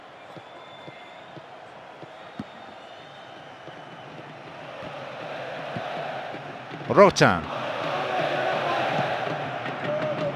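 Steady stadium crowd roar from the football video game PES 2009, a constant wash of noise throughout, swelling slightly near the end with a brief sharper burst, under a commentator's voice.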